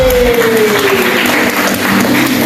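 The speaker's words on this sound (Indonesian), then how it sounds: "Kasih tepuk tangan buat Leni," Classroom applause during an Indonesian-language lesson, a steady wash of clapping from a group of students lasting a couple of seconds, fairly loud and close, with no talk over it.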